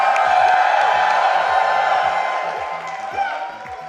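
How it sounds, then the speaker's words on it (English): A large crowd at a live speedrunning charity marathon cheers and whoops loudly, a dense sustained roar that slowly fades, with scattered clapping. "the crowd can go as loud as they can"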